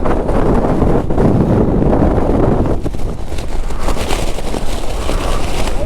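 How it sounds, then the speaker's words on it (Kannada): Strong monsoon wind on a motorcycle ride in Chikmagalur, a loud continuous buffeting roar across the microphone with constant gusting rumble throughout. "ಏ ಗಾಳಿ ನಿಲ್ಸ"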